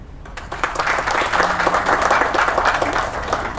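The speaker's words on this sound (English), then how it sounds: "Let's have a round of applause, everyone, for him." An audience at a company event gives a round of applause, clapping swelling quickly and holding steady at close range, loud and dense.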